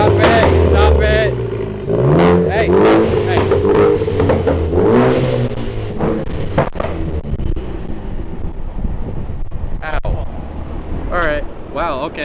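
A tuned Ford Focus ST on a Dynojet chassis dyno revs hard through rising and falling sweeps, loud and close, then settles to a lower drone with wind-like noise and brief voices near the end.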